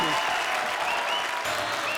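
Studio audience at a comedy show gives loud, steady applause for about two seconds, dense crowd clapping with faint voices underneath.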